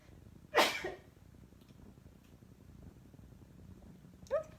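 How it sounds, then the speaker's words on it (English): A single sharp sneeze from a woman during a craft-kit class, abrupt and fairly loud against a quiet room, followed by a brief faint sniff or breathy sound a few seconds later. "I feel a sneeze coming on"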